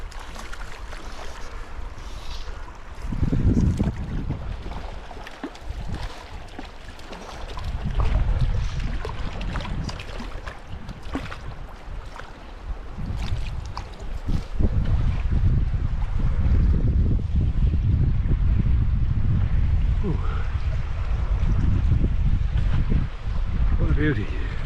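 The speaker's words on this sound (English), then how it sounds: "Very difficult casting with that wind." Wind gusts buffet the microphone beside a brook during fly fishing, loud rumbling bursts rising and falling throughout, with a voice speaking at times beneath.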